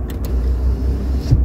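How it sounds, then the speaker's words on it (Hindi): Power windows on a 2022 Toyota Land Cruiser GR Sport whir shut inside the cabin over a steady low engine rumble, with a brief clunk near the end. "शीशे कर लेते हैं बंद"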